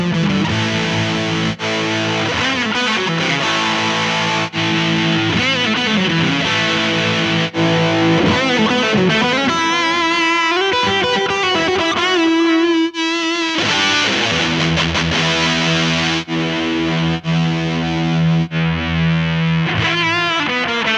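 Electric guitar played through the crunchy overdrive of a Mooer GE100 multi-effects unit, sustained distorted chords and notes ringing loudly and continuously with no talking.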